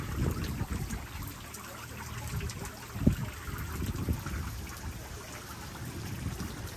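Brine trickles and drips down a graduation tower of larch and spruce timber packed with blackthorn brush, a soft, continuous watery patter close by with occasional louder splashes.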